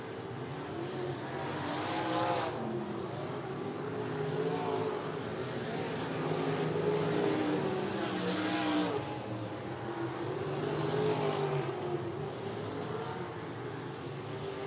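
305 sprint cars race around Jacksonville Speedway dirt oval, a pack of engines roaring continuously with surging swells as cars pass, steady loud field noise throughout.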